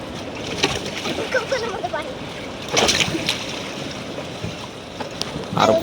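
Red Sea waves wash and splash onto a beach under steady wind noise, with people talking nearby throughout.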